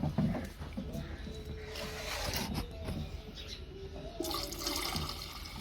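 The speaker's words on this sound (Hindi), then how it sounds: "और भी पानी डाल, ठीक है ना" Water is poured onto potted plants to soften their soil, making a continuous close splashing and trickling that holds fairly steady throughout, with faint background noise and no clear speech.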